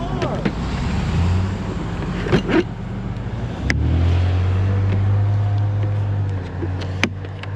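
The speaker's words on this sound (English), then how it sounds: "Here comes somebody flying up the street." A car speeds up a residential street, its engine rising into a steady close roar for several seconds before easing off, with wind buffeting the microphone.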